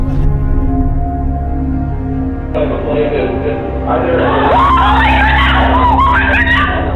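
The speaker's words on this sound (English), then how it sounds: "I'm sorry I screamed." A person screaming loudly and continuously, close and harsh, over a dense layer of other noise that grows busier midway.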